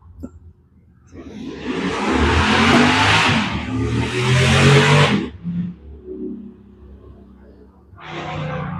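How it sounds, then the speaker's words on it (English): A loud engine roars past, revving hard for several seconds, then fades, followed by a brief burst of another vehicle. "Could you hear that dude go by with his really loud motorcycle?"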